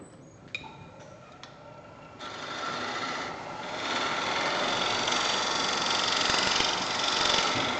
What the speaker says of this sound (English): I'm just using the edge, the long grinder on the gouge, and just scrape along